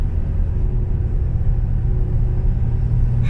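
A 2009 Ford F-350 Super Duty Harley-Davidson edition pickup cruising along the road, its engine and faint turbo making a low, steady rumble throughout.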